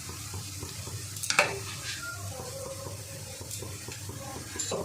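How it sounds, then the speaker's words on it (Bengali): Onion, garlic and ginger fry with ground spices in a pan, a soft continuous sizzle with a sharp clatter of stirring near the start and quieter scraping after. "পেঁয়াজ, রসুন, আদা সুন্দর কষানো হয়ে গেছে। এবার আমি কিছু গুঁড়ো মশলা দিয়ে দেব।"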